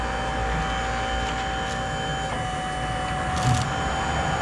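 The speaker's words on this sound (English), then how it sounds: "As this hydraulic cylinder tensions, it pulls the clamp tighter." A hydraulic pulling clamp on an electric motor recycling machine tightens with a steady mechanical hum and whine, a continuous droning tone with faint clicks, close and constant.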